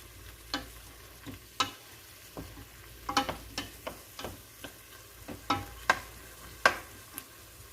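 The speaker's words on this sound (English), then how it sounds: "we're going to let this stir fry in with all the seasoning" Beef salami stir-fries with seasoning in a pan, a soft sizzle underlying a series of light scraping and tapping strokes from the stirring utensil, spaced irregularly and fairly close.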